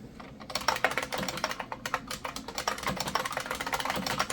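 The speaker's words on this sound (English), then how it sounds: "I'm happy this keyboard works on here." Fingers type steadily on a keyboard while setting up an Apple PowerMac G4, a close, fast run of clicky keystrokes with an irregular rhythm and no talking.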